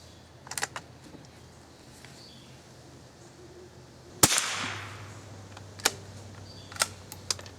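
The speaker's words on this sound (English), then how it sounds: "So let's take a few shots and see how well this little gun will perform." An old .22 rifle fires a single sharp crack near the middle, with faint mechanical clicks and handling knocks before and after in an otherwise quiet setting.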